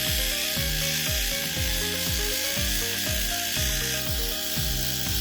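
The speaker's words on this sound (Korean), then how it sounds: "사포 120번, 240번, 400번 순서로 표면을 정리합니다" Plastic figure kit parts being sanded with sandpaper in stages of 120, 240 and 400 grit, giving a steady close scratchy rasp over continuous background music with a regular beat.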